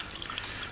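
Water pours into drinking glasses on a magic show stage, a brief splashing trickle lasting under a second.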